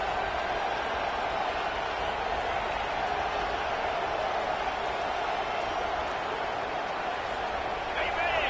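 A home crowd at a Michigan vs Washington college football game roars on third down, a dense, steady wall of cheering noise that holds loud throughout.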